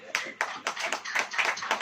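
A church congregation clapping hands in a steady, fairly quick rhythm, the claps close and distinct with some voices mixed in.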